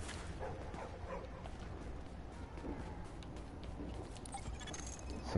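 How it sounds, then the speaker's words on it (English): Dog barking in the video game Tom Clancy's The Division, sharp bow-wow yips over a steady, dense background of in-game ambience, moderately loud and continuous across the moment. "Shut up, dog."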